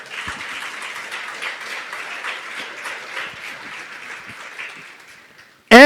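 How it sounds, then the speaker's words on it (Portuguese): A congregation applauds during a sermon, a crowd's clapping rising and holding at moderate volume before fading away, then a short loud burst cuts in at the very end. "Você pode aplaudir o Senhor?"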